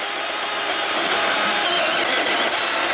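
Cordless battery chainsaw cutting through wood, a steady continuous whine of the running saw held at an even level with no pauses, close and fairly loud throughout.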